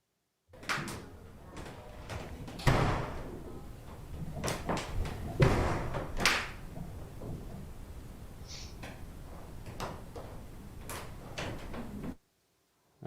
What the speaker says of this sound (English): essentially what you're hearing is a door banging.